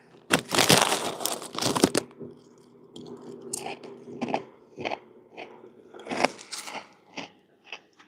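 Close, loud crunching from someone eating during a catfishing trip on Normandy Lake in Tennessee: a dense burst of bites, then irregular, quieter crunches and chewing spaced out over several seconds, with no talking.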